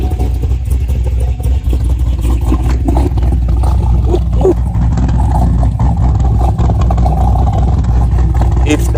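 Audi R8 engine idling and revving in steady, loud bursts close by, with a constant low rumble running throughout and no pauses between revs.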